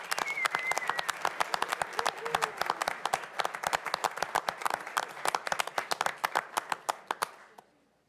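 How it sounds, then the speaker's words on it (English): Audience applause at a city council meeting: a room of people clapping steadily for several seconds, close and lively, thinning out and fading at the end. "let's give one more round of applause for Jim O'Connor and his family."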